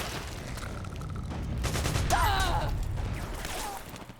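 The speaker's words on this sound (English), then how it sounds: "Какие-то там перестрелки они устроили" Gunfire from a shootout in Metal Gear Solid 4, a loud continuous rattle of shots mixed with whistling and clanking game effects, swelling in the middle and easing off at the end.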